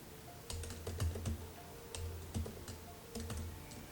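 Quick bursts of keystrokes on a computer keyboard while writing Java code, close and moderately quiet, with short pauses between runs and no speech.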